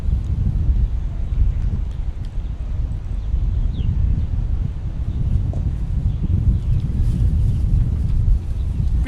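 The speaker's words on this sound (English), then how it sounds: "Really getting gusty here now." Gusty wind buffets the microphone at an outdoor cricket ground during an under-15 match, a continuous low rumbling roar that swells and eases in waves with no clear voices.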